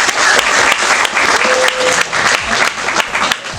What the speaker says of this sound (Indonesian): Tepuk tanganlah dulu.